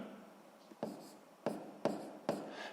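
Pen or pencil writing numbers on paper during a sixth-grade math exercise, quiet scratching strokes with several sharper taps at uneven intervals, close and soft.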